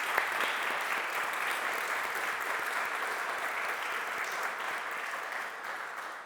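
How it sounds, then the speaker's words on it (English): Audience applause for a panel at a ceasefire teach-in event, steady dense clapping from a crowd sustained for about six seconds without speech. "let's give our panel a round of applause."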